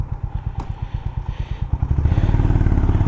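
Honda CB350RS motorcycle engine on a night ride, a close, loud, rhythmic thumping exhaust pulse that steadies and gets deeper and fuller toward the end.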